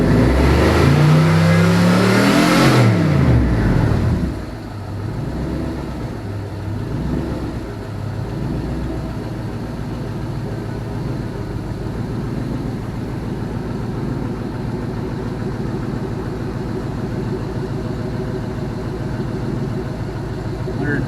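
All-aluminum 5.3L L33 Gen 3 LS engine revs up in a rising roar, then settles into a steady idle rumble, loud and close.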